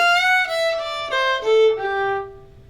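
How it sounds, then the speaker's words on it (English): Irish fiddle tune with a slide ornament, a short bowed phrase of a few notes, one note sliding up into pitch, played close and clear, ringing out and fading. "So here's an example of the slide in a tune."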